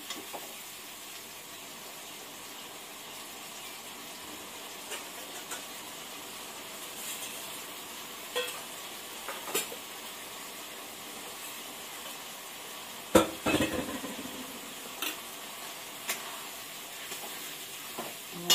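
Garlic and ginger paste is stir-fried in a pan for Punjabi-style chicken, a soft, steady sizzle running throughout, broken by occasional sharp scrapes and clinks of the spatula.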